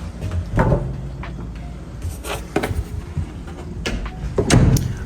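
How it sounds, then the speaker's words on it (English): Kitchen drawers in a newly built Eagle, Idaho home roll in and out on smooth runners: several soft sliding rumbles, each closing with a muted thump or knock, spaced irregularly and heard up close in a quiet room. "Almost all the homes these days have drawers that roll in and out, very smooth and ever popular."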